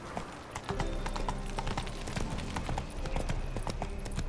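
Hooves of Geralt's horse Roach in The Witcher 3 clip-clop in a steady galloping rhythm close by, under a faint bed of game music and ambience.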